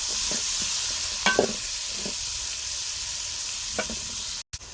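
Chopped onions sizzle in a frying pan while a spatula stirs them, a steady hiss broken by a few scraping strokes and knocks, close by, no talking.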